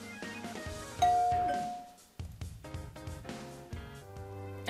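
A doorbell rings inside the video game Amber's Airline: High Hopes, a bright ding-dong chime over soft background music, sounding a few times in close succession.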